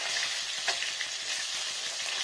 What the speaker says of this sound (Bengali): দেখুন ফ্রেন্ডস, কত সুন্দর হয়ে গেল মাছ ভাজাটা।